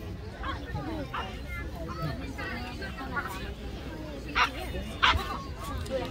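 A police dog from Hungary's Készenléti Rendőrség barks during an attack demonstration at a police dog show, a few sharp barks rising over steady crowd babble and a commentator's talking.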